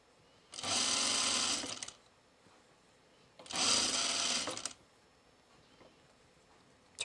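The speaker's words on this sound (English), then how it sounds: "And I just do a quarter inch seam here." A sewing machine stitches a quarter-inch seam on trousers in two loud, close bursts of rapid whirring, each lasting just over a second and separated by a quiet pause, with no talking.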